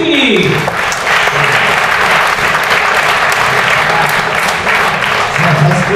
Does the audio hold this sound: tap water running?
no